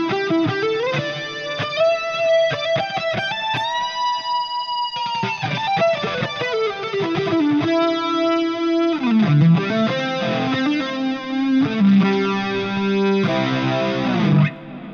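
An electric guitar plays a pentatonic lead through a Fractal Audio FM9 southern rock preset with distortion and chorus: sustained bent notes and quick runs, loud and continuous with no talking.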